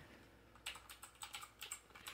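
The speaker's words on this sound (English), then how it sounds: "look, look, it's typing, it's typing" Quick keystrokes on a computer keyboard hooked up to a Wii U, about eight light, uneven taps over a couple of seconds, close and fairly quiet, with no voices.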